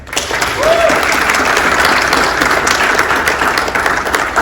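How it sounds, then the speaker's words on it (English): A conference audience gives a loud, full round of applause that holds steady throughout, a dense wash of many hands clapping with a brief voice cutting through near the start. "Let's give her one more round of applause."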